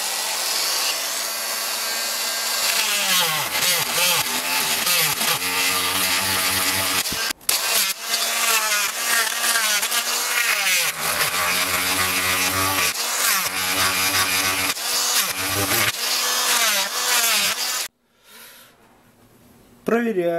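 A power cutting tool bites through the wooden enclosure of an Edifier R2700 speaker to make room for a ribbon tweeter. A loud, continuous rasping whine swoops in pitch for about eighteen seconds, then stops abruptly, leaving faint noise.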